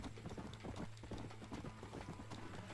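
Horse hooves clip-clop in a steady, quick rhythm in the video game Red Dead Redemption, faint and continuous under a low background hum, without talk.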